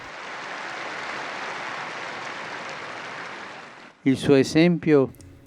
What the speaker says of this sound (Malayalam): അദ്ദേഹത്തിനായി കൈയടിക്കാൻ പാപ്പ അഭ്യർത്ഥിച്ചു